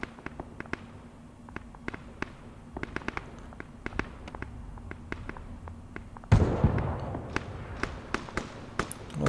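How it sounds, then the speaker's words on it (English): Soldiers' gunfire in Arma 3, sharp isolated cracks and pops at irregular intervals, mostly distant, with a louder, denser stretch of shots near the end. "Oh, they're shooting across it. They're shooting across at some infantry up ahead."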